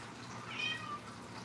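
A house cat gives a single short, faint meow partway through, set against a quiet room hum.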